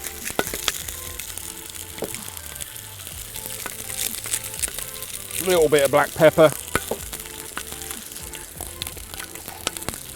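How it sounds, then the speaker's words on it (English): Steady sizzle of chicken frying in a pan runs throughout, with someone talking over it and a brief clatter of utensils midway. "Now you can hear that sizzling away"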